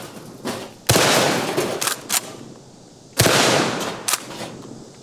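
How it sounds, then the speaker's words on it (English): KelTec KSG bullpup shotgun blasts hit small metal trash cans outdoors, two loud close booms with clanging impacts and echoing tails, plus a couple of sharper smaller hits between them. "shooting those little metal trash cans with shotguns never gets old"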